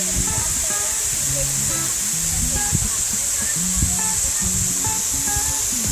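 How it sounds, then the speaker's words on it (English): A constant broad rush of falling water from Cascade Falls in Ouray, Colorado fills the scene, with a voice talking over it. "I'm still getting the spray from the falls"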